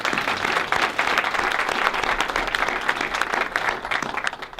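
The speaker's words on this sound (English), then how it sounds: "come on, you can clap for that" Audience applause at a community event in Houston, a steady wash of many hands clapping at close range, sustained and fairly even throughout with no talk over it.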